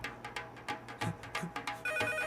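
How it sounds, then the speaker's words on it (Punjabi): A telephone ringtone sounds in a short series of quick repeated electronic pulses, fairly quiet and close, in a home scene from a Punjabi film; no voices. "ਆ ਫੋਨ ਚੱਕੋ"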